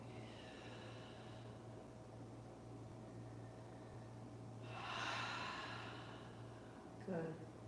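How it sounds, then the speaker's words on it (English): Slow, smooth yoga breathing during a live vinyasa class, soft steady breaths over a low fan hum, with one louder exhale swelling midway and a short sharp breath near the end. "Now smooth your breathing."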